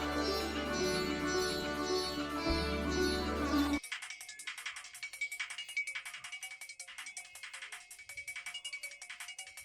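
An incoming phone call rings as a melodic ringtone, repeating steadily and clearly after a burst of loud music, with a Tamil TV serial scene around it.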